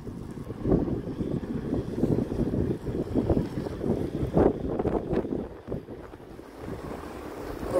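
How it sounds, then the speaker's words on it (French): Outdoor night wind buffeting a microphone on the coast at Hendaye, a loud, continuous low rumble with gusty surges and bumps throughout, no voices over it. "Je suis désolé pour le bruit, il doit y avoir du vent"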